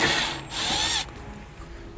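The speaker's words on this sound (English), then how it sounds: "we'll go ahead and take off all these screws here" A power drill or driver backs out screws holding an inverter board housing, whirring in two short bursts close to the mic before falling quiet.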